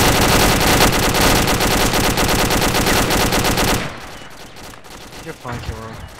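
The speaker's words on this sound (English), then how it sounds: "Oh god, SMG!" Rapid submachine gun fire bursts loudly and continuously for several seconds during an online shooter match, then cuts off, leaving quieter background game sounds and a voice.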